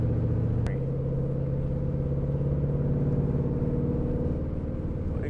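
A Mustang cruising on a rural road heard from inside the cabin, a steady low engine and road rumble with a faint brief tick near the start, continuous and even throughout.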